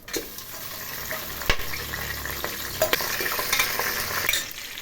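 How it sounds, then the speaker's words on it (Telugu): Onion, green chili and cashews fry in boiling oil in a cooker for shrimp biryani, a steady broadband sizzle with a few sharp clicks and pops from stirring, close and continuous throughout. "ఆయిల్ మరిగిపోయింది. చూడండి, ఉల్లిపాయ, పచ్చిమిర్చి, జీడిపప్పు వేస్తున్నాం."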